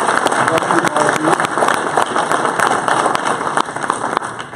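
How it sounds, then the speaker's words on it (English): A crowd at the CAHL 2018 annual meeting and awards ceremony applauds the nominees and Volunteer of the Year Award recipients. The clapping is loud, dense and sustained, holding steady all the way through. "give all the nominees and Volunteer of the Year Award recipients another round of applause"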